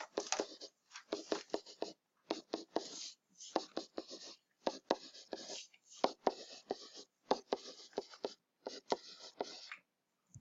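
A pen taps and strokes out evenly spaced tick marks while a number line is drawn on paper, giving quick bursts of scratchy marks in an irregular rhythm, close and fairly quiet, with short pauses between strokes.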